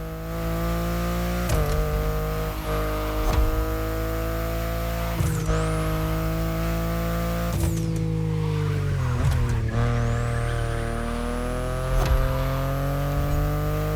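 A BMW i8 driving in the racing game The Crew Motorfest, a steady engine drone with rising and falling tones as it shifts and accelerates, loud and continuous with no talk.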